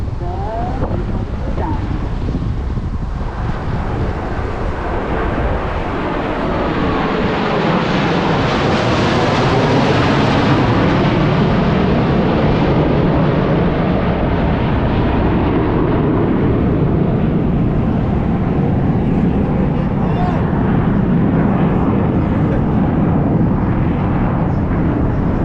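Four Blue Angels jets flying over Fort Lauderdale in tight formation, a loud continuous roar that swells and sweeps past with heavy wind rumble, while a commentator talks over the PA.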